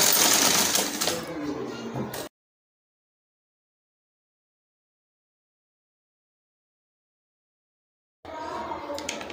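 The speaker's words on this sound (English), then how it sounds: "you're stopping your top stitching where you stopped sewing" A sewing machine top stitching a placket whirs close by for about two seconds, then goes silent, and resumes near the end.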